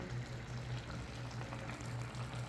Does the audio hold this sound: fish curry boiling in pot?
yes